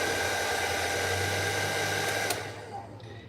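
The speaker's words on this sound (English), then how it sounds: "the easiest way to transition into a high-speed velocity dryer is to start off with this baby step first" High-speed velocity pet dryer used while grooming a Ragdoll cat, a loud continuous blowing whoosh with a steady motor hum that cuts off near the end, leaving only a fainter hiss.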